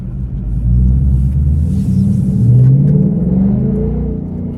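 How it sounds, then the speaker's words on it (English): A stock 1966 car pulls away at quarter throttle in sport mode, its engine a steady, loud low rumble that swells gently in pitch as it accelerates, close and alone without talk. "We're going to take the car out for a little test drive here, see how it does"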